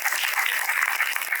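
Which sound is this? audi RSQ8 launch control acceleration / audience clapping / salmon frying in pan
audience clapping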